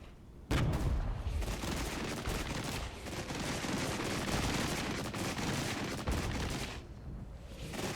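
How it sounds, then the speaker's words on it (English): Cluster munitions and gunfire in the war game Regiments, a dense, continuous barrage of rapid bursts and booms that starts abruptly and rolls on loudly for several seconds before easing slightly near the end. "let's soften them up with some cluster munitions"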